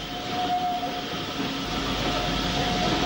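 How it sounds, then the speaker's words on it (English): A steam locomotive working hard on a British Railways line rumbles along with a steady mechanical roar and faint rhythmic chuffing, a sustained whistle-like tone riding over it, no voices. "the sound of a steam locomotive hard at work is still heard in these lovely"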